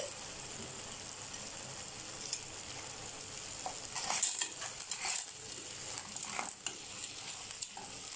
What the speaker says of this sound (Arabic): هعمل ايه هحط المكرونه نيه اهي واقلب